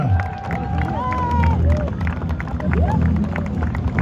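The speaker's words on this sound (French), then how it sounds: "elle attend les applaudissements du public" Stunt show crowd in the stands in Nice, cheering and clapping in a steady, loud roar, with whistles and shouts rising over the din.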